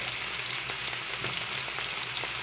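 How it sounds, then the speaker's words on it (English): Butter steak sears in a stovetop pan with a constant, close crackling sizzle and small spatters throughout. "it's showing that it's starting to sear and starting to close off inside"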